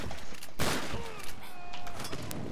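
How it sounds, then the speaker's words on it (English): Shotgun blasts in Tomb Raider, a sharp loud shot standing out among a few quieter bursts of gunfire over a short stretch, with game noise in between. "There you go, two shotgun bullets to the ass."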